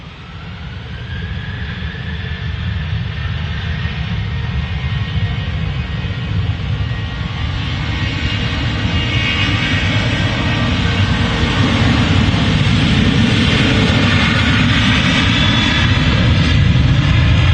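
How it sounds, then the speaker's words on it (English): A Jet2 Boeing 737 airliner departs Manchester Airport, its jet engines building into a steady, loud, rising roar that swells through the whole stretch with no talk. "Here we go, Jet2 737 next out."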